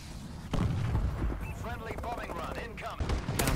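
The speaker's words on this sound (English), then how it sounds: "Friendly missile strikes incoming." Missile strikes and gunfire rumble through a Call of Duty: Advanced Warfare Domination match, heavy low booms rolling under a voice that talks throughout.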